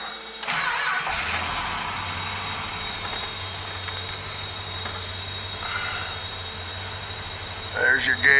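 A 1971 Dodge Charger R/T with a 440 Six Pack V8 cranks briefly and catches on a cold start, then settles into a steady, loud idle with a slight blip near the end, while a radio voice plays in the background.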